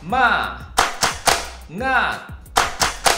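Children's tepuk semangat clapping routine: a chanted voice alternates with loud, crisp hand claps in quick groups of three. The rhythm repeats steadily and stays close.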